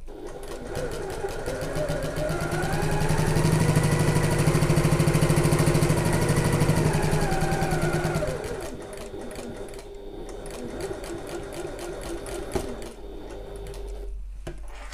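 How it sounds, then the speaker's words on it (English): A domestic sewing machine stitches a messenger bag seam along a quarter-inch line, a loud, steady rapid whir that swells for several seconds, then cuts out, leaving quieter handling noises. "So I'm going to start sewing at that quarter inch line."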